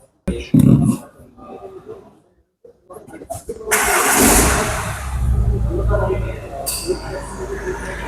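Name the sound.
Tata Harrier car engine starting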